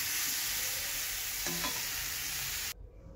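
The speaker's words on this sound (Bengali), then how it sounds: "মশলাটা ভালো করে কষিয়ে নিতে হবে।" Spice masala with chili powder stir-fries for a katla fish curry, a loud close sizzle with scraping stirs that cuts off abruptly near the end, leaving quiet.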